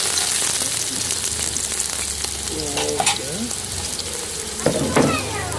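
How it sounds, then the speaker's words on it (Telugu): Telangana onions frying in hot oil give a steady, loud sizzle throughout, with a couple of brief scraping stirs and clinks partway through. "ఇవి ఫస్ట్ ఆయిల్లో బాగా ఫ్రై చేయాలి"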